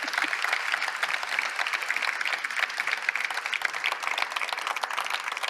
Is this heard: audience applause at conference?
yes